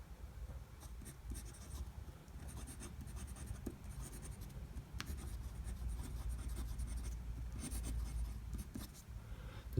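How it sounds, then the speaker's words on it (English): Fountain pen nib scratching across coated, fountain-pen-friendly paper while writing a sample line, faint close-up strokes and small scratches in a quiet room, with no talking. "Let's do the writing sample. So I'm just going to write,"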